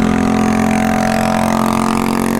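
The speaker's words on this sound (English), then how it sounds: "He went with an aftermarket exhaust and had a custom fit it." A loud aftermarket exhaust on an electric motorbike drones steadily up close, a buzzing tone that holds nearly constant throughout with no speech.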